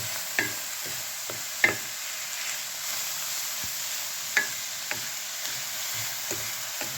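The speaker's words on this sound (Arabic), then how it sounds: "صافي دابا غنخلطهم نحركهم شويه فوق البوطه" A spoon stirs a turmeric and cumin spice mixture in a pot over a stovetop flame, a faint steady sizzle punctuated by light scraping clinks against the pot, with no talking.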